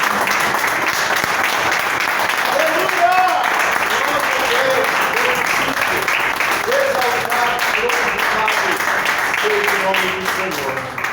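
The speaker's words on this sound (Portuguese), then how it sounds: "aplauda ao Senhor em nome de Jesus" Members of a church congregation applaud together in a dense, steady burst of clapping that holds strong for several seconds before thinning slightly, with voices calling out and singing faintly beneath it.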